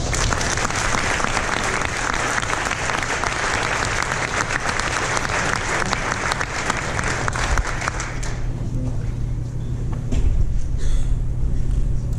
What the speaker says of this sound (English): Please give a round of applause to Mr. Enos